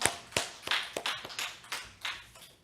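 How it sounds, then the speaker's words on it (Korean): Congregation applause during a Sunday church worship service, a burst of handclaps of thanks after a prayer, sharp irregular claps fairly near, with no talking over them. "하나님께 감사의 박수 드리겠습니다."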